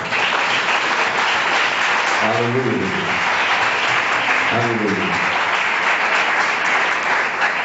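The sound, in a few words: congregation applauding in church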